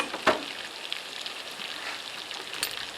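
Oysters laid on a hot grill give off a faint, steady crackling sizzle with a brief louder hiss at the start, soft and close with no voices.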